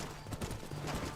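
Horse hooves in Red Dead Redemption, a brisk clip-clop of several quick hoofbeats under a soft background wash.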